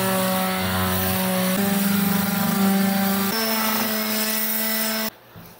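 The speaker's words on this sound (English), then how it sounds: "we gave it a good light sanding with some 60 grit sandpaper and a palm sander" A palm sander fitted with 60 grit sandpaper runs steadily on wood being prepped for waterproofing epoxy, a loud continuous buzzing drone with shifting pitch that cuts off abruptly near the end.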